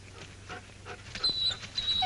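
Hurt, limping dog panting and whimpering softly, faint breathy pants with a thin high whine rising near the end, heard alone at close range.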